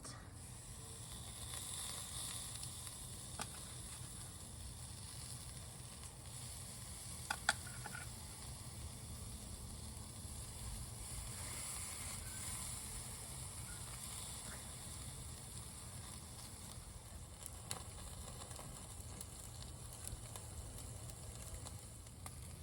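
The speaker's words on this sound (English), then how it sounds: "You can see it's cooking my steak really good." Steak sizzles on a small portable charcoal grill over hot coals, a steady broadband hiss and crackle running continuously with a few brief pops, close and moderately quiet, with no voices.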